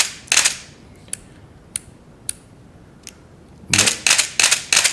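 Canon EOS-1V film camera with battery grip firing its shutter, a few sharp isolated clicks spaced apart, then a rapid burst of loud mechanical shutter clacks in continuous drive, close and clear with no talking.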